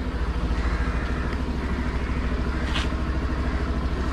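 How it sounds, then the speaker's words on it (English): A Suzuki Access 125 BS6 scooter idles close by, its engine giving a steady low throaty exhaust thrum with a faint mechanical clatter, running alone without voices. "nice exhaust note, very throaty exhaust note it has got."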